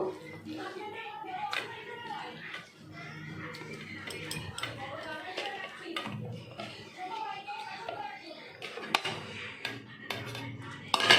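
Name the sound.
mixing fresh mango in a bowl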